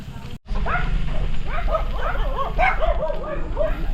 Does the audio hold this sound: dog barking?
yes